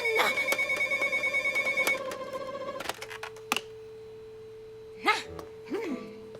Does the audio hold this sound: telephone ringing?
yes